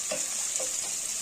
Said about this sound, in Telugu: ఆనియన్స్ ఫ్రై అవుతున్నాయి